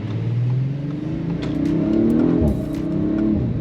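A 2025 Audi RS5 accelerates at partial throttle. The engine note holds steady and loud from inside the car, rising slightly in pitch and then easing off, with a continuous rumbling drone.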